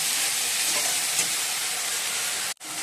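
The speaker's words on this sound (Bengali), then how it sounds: "মশলাটা ভালো করে কষিয়ে নিয়েছি" Spice paste of ginger, green chili, turmeric, tomato, cumin and coriander frying and being stirred in a pan, a steady loud sizzle with a brief break near the end.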